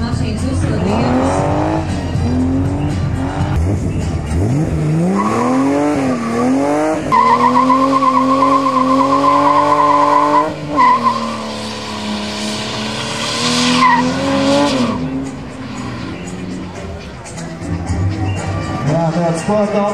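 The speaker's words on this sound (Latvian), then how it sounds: "Tagad mašīnas uzsildījums." Drift cars warming up at a Latvian drift series event, engines revving and rising in pitch with loud tire squeal and skidding, sustained and close, with a voice heard over parts.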